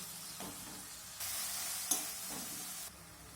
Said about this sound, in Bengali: এখন আমি একটু সময় নিয়ে মশলাটাকে একটু ভালো করে কষিয়ে নেব